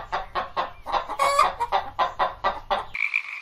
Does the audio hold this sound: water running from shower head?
no